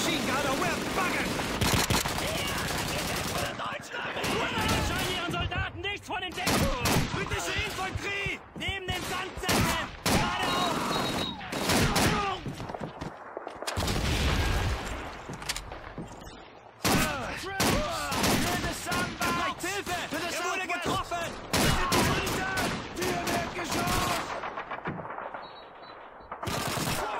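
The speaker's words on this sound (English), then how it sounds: "There's an MG-42 on the second floor!" An MG-42 machine gun hammers away in a Call of Duty 2 battle, with long rattling bursts and gunshots filling the scene, broken by short gaps and shouting voices.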